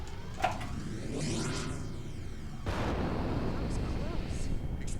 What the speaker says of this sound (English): Explosion must have jarred it into action